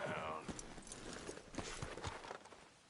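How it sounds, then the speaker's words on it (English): A horse's hooves clip-clop in steady uneven strikes in Red Dead Redemption 2, mixed with game ambience under a talking voice. "Careful with that horse, Arthur."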